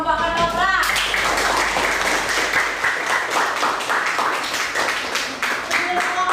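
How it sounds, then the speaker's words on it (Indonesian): A classroom of people clapping in a sustained round of applause for a ketoprak group, starting after a brief voice and fading slightly toward the end. "Tepuk tangan buat kelompok ketoprak."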